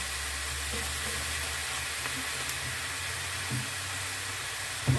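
Cabbage with mushrooms sizzles steadily in a frying pan, a continuous soft hiss at moderate level with a few faint clinks, no voices.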